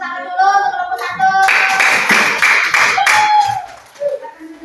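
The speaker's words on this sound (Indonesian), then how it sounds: "kita beri tepuk tangan dulu untuk kelompok satu" A classroom applauds a student group, bursting into a few seconds of brisk, dense hand clapping that rises suddenly after a voice speaks and fades into more talk.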